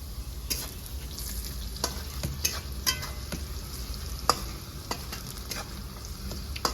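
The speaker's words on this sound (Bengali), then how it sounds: "কড়া করে ভাজা হয়ে গেছে খুব সুন্দর লাগছে পেঁয়াজটা লাল হয়ে গেছে" Onion and tomatoes frying in a pan for a rural fish curry, a steady soft sizzle with intermittent scraping taps of a spatula stirring against the pan, alone and moderately quiet.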